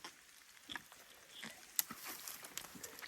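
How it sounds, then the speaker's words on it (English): Light rain just beginning to fall outdoors during a red stag hunt in New Zealand, a scattered patter of soft drops tapping across a quiet background, faint and irregular with a few sharper ticks. "And it only just started to rain."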